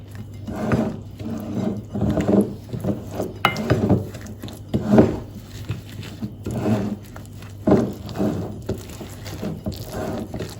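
A thick yogurt and lemon juice marinade is mixed in a bowl with a utensil, producing repeated rhythmic scraping and clacking strokes, close and steady over several seconds, with no talk.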